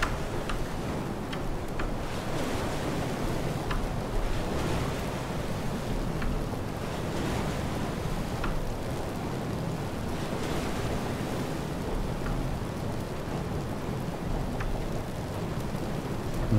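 Wind and waves at sea in the video game FAR: Changing Tides, a steady wash of water and rushing air with faint ticking clicks throughout, continuous and moderately loud with no talking.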